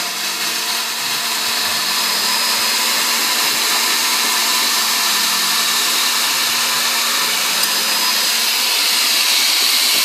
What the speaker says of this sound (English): Turn on the switch. Pump is starting.